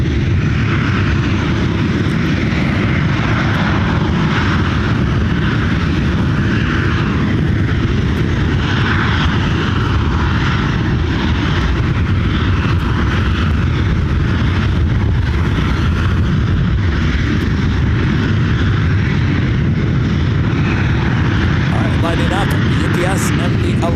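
Airliner on flight 915 to Louisville at Ontario International Airport in California, a steady loud engine roar holding for the whole stretch, with a voice talking over it.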